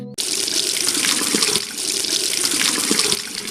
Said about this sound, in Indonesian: Pakai keran air yang di taman saja.